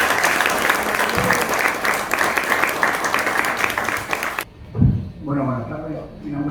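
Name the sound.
loud applause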